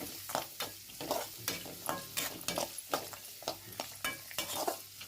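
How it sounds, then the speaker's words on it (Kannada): Onion fries in oil while a spoon stirs and scrapes the pan in a quick, regular rhythm, each stroke a close clatter over a soft continuous sizzle, with no talk. "ಇದು ಉಳ್ಳಾಗಡ್ಡಿ ಎಣ್ಣೆ ಒಳಗೆ ಫ್ರೈ ಆಗಲಿ"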